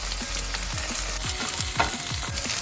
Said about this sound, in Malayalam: ഇനി ഇതിലേക്ക് തേങ്ങ കൊത്തി ഇട്ട് കൊടുക്കാം.